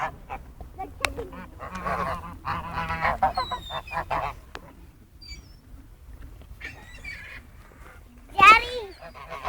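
A flock of geese honks loudly and repeatedly while being fed bread, with scattered calls throughout and a sharp burst of honking near the end. People talk over the birds.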